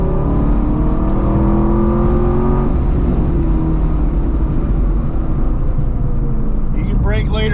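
A BMR-equipped sixth-generation Camaro drones loudly from inside the cabin on a road course, the engine note rising and easing with throttle while a voice coaches over it.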